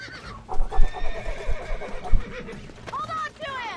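In Red Dead Redemption, a horse whinnies and snorts close by with hoof clops, while someone talks over and between the animal sounds and a louder neigh rises near the end.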